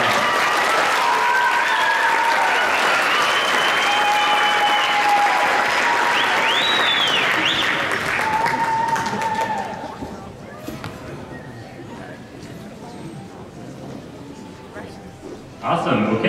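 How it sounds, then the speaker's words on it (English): A crowd applauds at the 2024 CUSF junior and senior finalist awards ceremony, sustained steady clapping for about nine seconds that then thins to scattered claps and room murmur. "can we give Ben a round of applause for that?"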